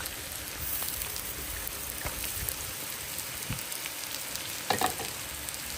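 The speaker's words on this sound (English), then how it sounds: "Adding 2 tablespoons of ginger and garlic." Ginger and garlic paste sautéing in a pan for a salmon steak biryani gives a steady, moderate sizzle and crackle throughout, with a few brief stirring clicks near the end and no talking.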